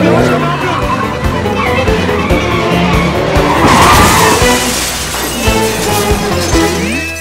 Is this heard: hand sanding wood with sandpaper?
no